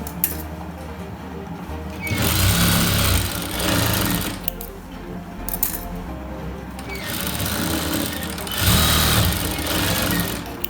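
A sewing machine stitches a salwar top (chudi), running in two or three loud bursts with short pauses between, a steady mechanical whir with no talking.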